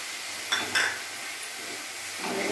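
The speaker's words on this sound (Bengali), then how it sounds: "এবার আমি কুচনো টমেটোগুলো দিয়ে দেবো।" Chopped tomatoes drop into a pan of frying dhaba-style chicken curry, giving a couple of sharp clatters and a steady hiss of sizzling, with a soft stir near the end and no talk.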